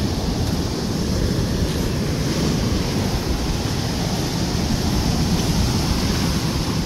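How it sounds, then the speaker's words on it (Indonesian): Heavy surf on Lumajang's south coast of Java roaring continuously, big waves crashing and churning with wind noise layered over the steady wash. "gede ini ombak."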